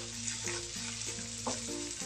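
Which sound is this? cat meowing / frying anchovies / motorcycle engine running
frying anchovies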